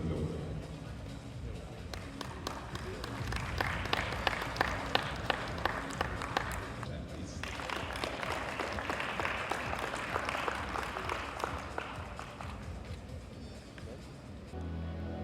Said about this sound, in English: And now you can give them a big round of applause.